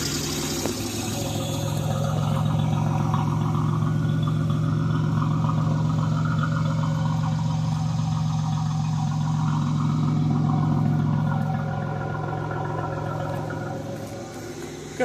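A car's engine idles with a fairly deep, even exhaust tone, steady and close for about fifteen seconds with a slight swell in the middle, no talking.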